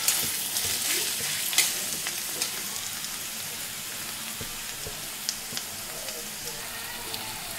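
Onions frying in a pan as the base for a chicken curry, a steady close sizzle that runs through the whole stretch with a few occasional sharper crackles and pops.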